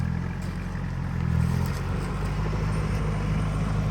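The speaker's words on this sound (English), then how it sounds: "I'm not doing much there but spinning wheels" A Toyota LN106 Hilux spins its wheels in an off-road hole, its engine a loud, steady low drone that swells briefly, with faint clatter on top.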